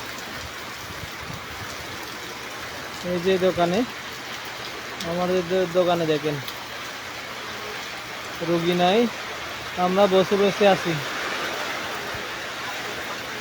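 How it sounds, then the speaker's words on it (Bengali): Heavy rain pours steadily as a dense, even hiss outside a small shop, with a voice talking over it in several short stretches. "আপনাদেরকে বৃষ্টি দেখাইতেছি"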